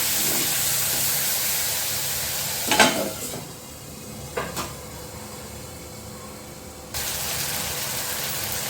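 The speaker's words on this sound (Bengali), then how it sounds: "এই আদা রসুন বাটাটা একটু কষিয়ে নিতে হবে।" Ginger garlic paste frying in a pan, a steady close sizzle with a few sharp clattering stirs partway through, after which the hiss drops lower before rising again.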